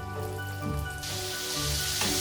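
Chicken pieces fry in oil in a frying pan over medium heat, giving a steady close sizzle that swells into a brighter, louder crackle midway, with no voices.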